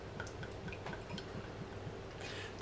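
Manischewitz Concord Grape wine pours from a square screw-cap bottle into a glass, a close continuous liquid stream with soft gurgling pulses, quiet and steady, no one speaking.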